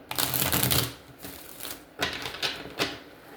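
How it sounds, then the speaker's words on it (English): Tarot cards being shuffled by hand: a long, dense riffle of crisp card clatter up close, followed by several shorter bursts and snaps, with no one talking. "Let me shuffle."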